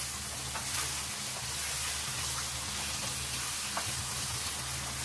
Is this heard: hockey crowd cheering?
no